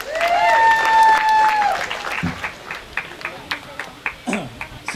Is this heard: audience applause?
yes